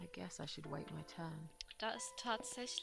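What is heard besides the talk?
No distinct noise like a dog, phone or traffic.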